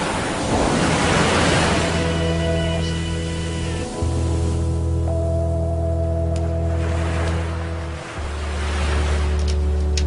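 Ocean waves roll and wash steadily, a loud, continuous surf roar underneath sustained low musical tones that shift in pitch partway through.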